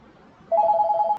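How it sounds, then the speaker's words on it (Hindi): An incoming call sets a phone ringing with a short warbling electronic tone that starts suddenly and trills rapidly for under a second, fairly loud and close, before cutting off with a faint tap. "फोन कॉल आ गया था बेटा एक, इस वजह से पॉज करना पड़ा अपने को।"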